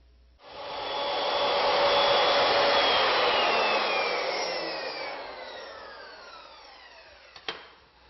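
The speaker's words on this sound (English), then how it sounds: "and then we'll throw it in the machine and start cutting." A legacy milling machine cuts wooden end blocks for a four-poster bed, giving a loud, sustained whine that rises and slowly fades over several seconds, with a short sharp knock near the end and no talk.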